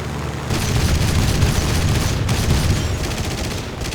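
Yak-9K aircraft cannon fire in War Thunder realistic battles, a loud, dense, continuous burst of heavy booming shots that rolls on steadily almost without a break.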